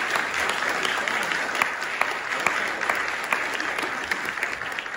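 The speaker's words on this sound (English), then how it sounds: "Can we have a round of applause for First Sergeant?" Audience at an Army change of responsibility ceremony applauding steadily for several seconds, a dense spread of claps with a few sharper individual claps standing out, heard indoors at moderate distance with no talk.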